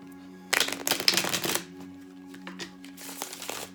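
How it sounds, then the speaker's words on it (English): Tarot cards are riffle-shuffled nearby in a quick burst of crisp flutters, followed by a softer second shuffle after a short pause. "I'm going to shuffle again."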